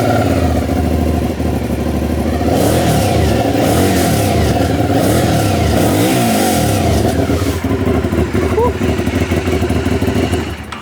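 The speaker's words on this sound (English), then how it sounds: "I think this one has had like a decat or something because the soundtrack is incredible" A naked motorcycle fitted with a decat exhaust revs hard and loud, its engine note rising and falling through several sustained throttle blips with a rough, throaty character throughout.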